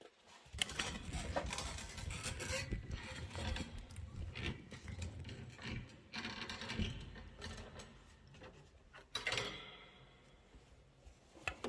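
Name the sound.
sewing machine stitching a pillow handle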